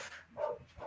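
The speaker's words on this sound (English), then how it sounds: "Bloody dog." A dog barks a couple of times at middle distance, two short muffled yaps separated by a brief pause, heard indoors with quiet room noise around them.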